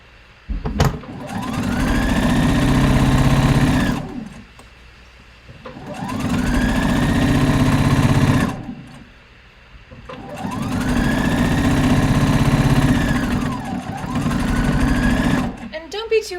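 A sewing machine top-stitches the back piece of a boxy harvest top in three long, steady runs of about three seconds each, separated by brief pauses. It is loud and close, and a voice talks between the runs.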